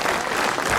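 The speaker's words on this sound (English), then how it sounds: "Give them a big round of applause." A crowd applauds at a road-racing meet-the-riders event in Coleraine, a brief, dense burst of clapping with no gaps, heard at steady volume.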